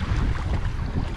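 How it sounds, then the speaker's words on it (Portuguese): Strong gusting wind buffeting the microphone at an outdoor fishing spot, a loud low rumble of wind noise with no speech. "E o vento tá ficando cada vez pior."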